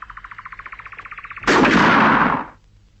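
In a 1985 Soviet film scene, a rapid mechanical ticking gives way to a single loud, close gunshot blast that rings out for about a second before dying away, with no talk.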